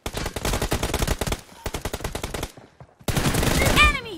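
Rapid automatic gunfire in a multiplayer shooter video game, dense bursts of shots with a short pause, then a final loud burst with a ricochet-like whine; no talk over it.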